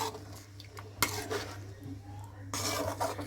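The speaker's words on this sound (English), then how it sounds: "and then again stir it slowly and gently" Soya chaap gravy with a cup of water added, stirred gently in a pan: soft scraping and a few metallic clinks of a spoon against the pan over a quiet simmer, close and fairly faint.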